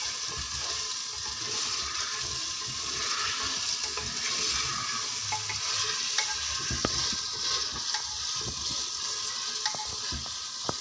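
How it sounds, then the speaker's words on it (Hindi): Chicken frying in a handi gives a steady, close sizzle with occasional stirring scrapes and clinks throughout, with no talking. "हम इसको फ्राई करेंगे"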